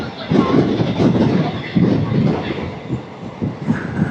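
The 16850 Rameshwaram–Tiruchchirappalli Express rolling over the Pamban bridge by the sea, a loud steady rumble with repeated clickety-clack wheel beats heard from aboard.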